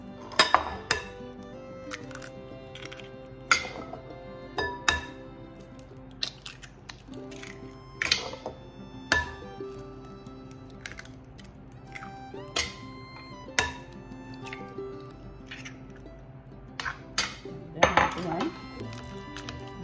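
Sweet potatoes being mashed in a bowl for bread pudding, with repeated clinking and scraping of a utensil against the bowl in an irregular rhythm, close and fairly quiet, over a low steady background hum.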